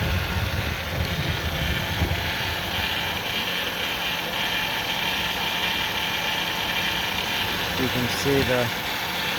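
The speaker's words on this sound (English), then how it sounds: "Current idle is about 900, but you can see the valve cover, the whole thing is shaking." A 2000 Ford Windstar SEL engine with a rough idle at about 900 rpm rumbles steadily up close, a constant mechanical drone with faint irregular ticking. Someone talks over it.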